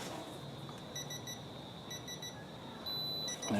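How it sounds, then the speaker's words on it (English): A Milwaukee M18 Gen 2 Fuel impact driver set to 80 newton meters gives short repeated triple beeps, faint and evenly spaced, over a low steady hum, with no one talking. "until we hear the beep."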